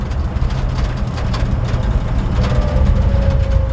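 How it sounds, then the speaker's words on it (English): A 1955 Chevrolet 3100 short bed pickup rattles as it drives down the road, with worn weather stripping, a continuous loud rumble of engine and road noise with dense rattling, heard close from inside the cab. "That's why you hear the truck rattling when you're driving down the road."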